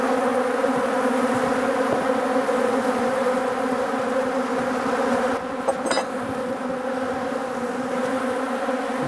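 Honeybees in a packed hive frame produce a dense, steady buzzing drone at close range, with a few brief handling clicks.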